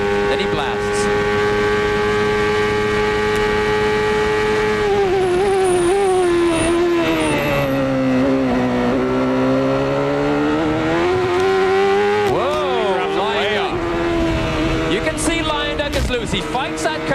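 A 1993 CART race car at Road America, its engine note lifting slightly, then dipping and rising again as the car accelerates, loud and continuous with a race commentator talking over it.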